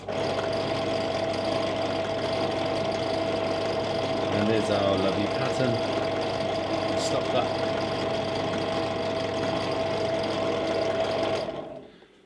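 A working three-phase electric motor runs under test, a loud steady whine with a strong mid-pitched hum throughout, briefly overlaid by a person talking, then stopping abruptly near the end.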